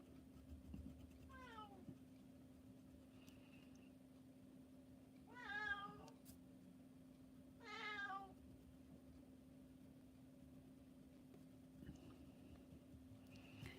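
A cat meows several times, a short call early on and two longer drawn-out meows in the middle, faint and somewhat distant over a steady electrical hum in a quiet room.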